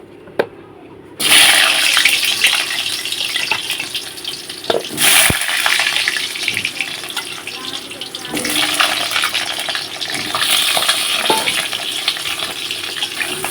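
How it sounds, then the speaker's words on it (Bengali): Cut potatoes dropped into hot oil in a wok, a loud continuous sizzle and crackle that bursts in suddenly and keeps hissing with small pops and clatters. "তো আলুগুলো দিয়ে দিয়েছি তেলের মধ্যে। এখন কিন্তু আলুগুলো লাল লাল করে ভেজে নেব।"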